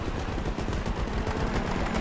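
Continuous rapid automatic gunfire from a bot in the video game Battlefield 2042 rattles on with dense, overlapping shots, loud and close, with no talking.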